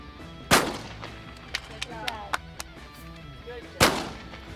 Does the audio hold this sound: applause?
no